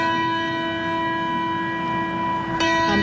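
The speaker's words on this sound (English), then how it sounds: "hearing the bells and how many that there were" A church bell rings at a memorial ceremony honoring lives lost to domestic violence, a sustained resonant tone with a fresh strike near the end.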